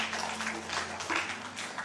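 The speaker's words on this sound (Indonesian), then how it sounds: "Berikan tepuk tangan buat Tuhan" Congregation clapping along in a church service, a steady wash of many hands sustained throughout at moderate distance.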